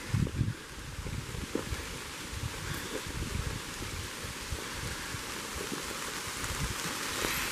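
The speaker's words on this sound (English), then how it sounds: "It's raining again." Steady rain pattering on leaves and ground along a wooded mountain trail in Maine, with light wind buffeting the microphone and a few close drips and rustles.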